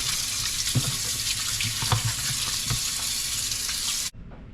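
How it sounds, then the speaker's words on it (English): Cold water from a kitchen tap runs steadily over oxtail in a sink, a continuous splashing hiss broken by a few louder knocks and drips, then cutting off abruptly near the end. "Get some cold water running on there."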